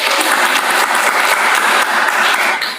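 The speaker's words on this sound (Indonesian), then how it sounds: "Tepuk tangan dulu untuk kelompok" A high school Indonesian class claps for a student group after their presentation, loud, close, steady applause filling the short moment.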